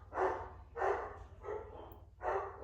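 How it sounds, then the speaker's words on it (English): Dogs bark in four separate moderate barks at a slow, uneven pace, heard at mid distance over a steady low hum, with no talk. "I warned you they were gonna bark."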